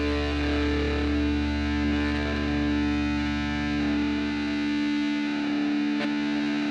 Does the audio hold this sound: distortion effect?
yes